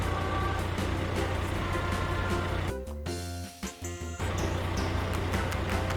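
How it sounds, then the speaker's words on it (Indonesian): A bulldozer truck engine rumbles loudly and steadily, with a short dip where the sound drops out and tonal beeps cut in, before the heavy engine drone resumes, with no talking. "Wow, ini adalah truk bulldozer,"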